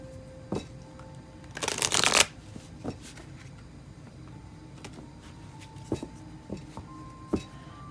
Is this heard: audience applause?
no